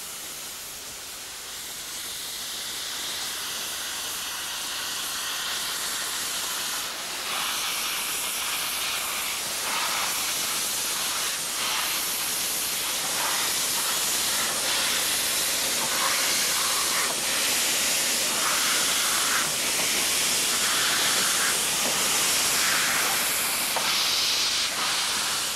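A 15A class Beyer-Garratt steam locomotive, built by Beyer Peacock's Gorton Works in Manchester in 1950, hisses steam in a loud, continuous broadband rush that builds slightly and holds steady, with no talking.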